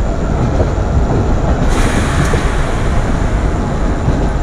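A Shalimar–Visakhapatnam superfast express train passes near a locomotive shed with a WT4 locomotive, giving a loud, constant rumble of wheels and rail noise and a brief high squeal partway through.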